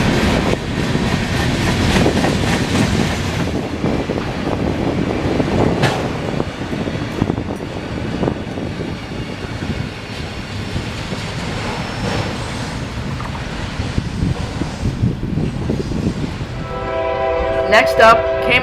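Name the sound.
yard switcher locomotive passing and sounding horn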